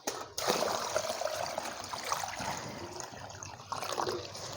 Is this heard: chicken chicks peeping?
no